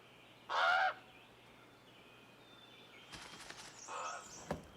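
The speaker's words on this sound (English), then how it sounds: "Same raven. Every time it flies by, it makes that funny call." A single harsh raven call rings out clearly, followed by a few fainter, rougher calls and rustling in a quiet outdoor setting.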